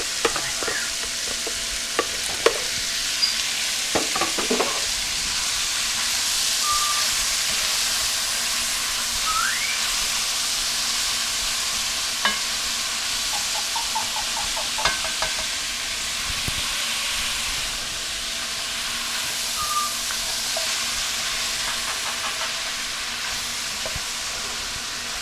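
Chopped vegetables, garlic and jalapeños sauté in a pan for chili, a steady loud sizzle throughout with occasional clinks and scrapes of stirring, close up and with no voices.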